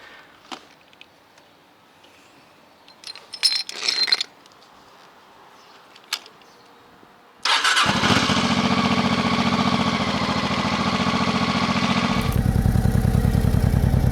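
A motorcycle that has sat unused too long: faint clicks and handling noises, then the engine catches abruptly and runs loud and steady at close range, a brief revving bump partway through before it settles into a constant running drone.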